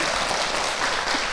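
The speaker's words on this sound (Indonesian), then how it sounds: "Ya, tepuk tangan boleh." A seminar audience claps steadily, a brief, even wash of applause at moderate loudness with no distinct voices over it.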